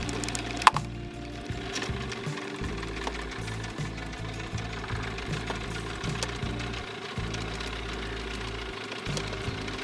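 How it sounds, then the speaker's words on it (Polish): A cold boat engine, just started, runs steadily at around 80 decibels, with a low, uneven knocking rumble and a clattering mechanical rhythm that continues without pause. "to jest cały czas totalnie zimny silnik. Przed chwilą żeśmy go odpalili."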